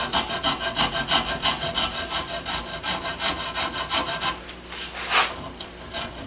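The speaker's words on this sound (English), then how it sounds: "I got this cool little 3/8 round rat tail gouge or rasp that I can get in here and clean this up real nicely" A 3/8 round rat tail rasp files gun wood in steady back-and-forth strokes, a close, rhythmic scraping that rasps about twice per second before slowing into a few softer, scattered strokes.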